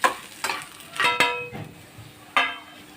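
Okra stems and tamarind stir-fried in hot oil, with a handful of sharp spatula scrapes and clacks against the pan over a soft sizzle, close up and with no talking.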